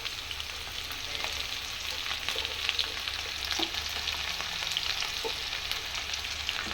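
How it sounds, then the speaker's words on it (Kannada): Cumin, fennel and crushed garlic crackle in hot tempering oil, a continuous close bright sizzle with small pops and faint stirring, no voices. "ಇದಕ್ಕೆ 1 ಸ್ಪೂನ್ ಜೀರಿಗೆ ಮತ್ತು 1 ಸ್ಪೂನ್ ಸೊಂಪು ಹಾಕಿ ಸ್ವಲ್ಪ ಜಜ್ಜಿಟ್ಟಿರುವಂಥ ಬೆಳ್ಳುಳ್ಳಿ ಹಾಕಬೇಕು"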